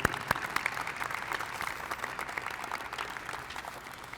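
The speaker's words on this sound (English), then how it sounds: "Please give them a round of applause for what all they do" Breakfast guests at Murray State University's annual Spring Senior Breakfast clap for the vice presidents, a steady, moderately loud wash of many hands applauding throughout, with a few sharper claps near the start.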